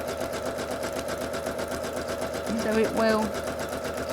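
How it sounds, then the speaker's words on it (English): A sewing machine zigzag-stitches for free-motion thread painting, running as a steady close mechanical whir under a brief spoken phrase, with a short louder burst near the end. "the machine is zigzagging for you"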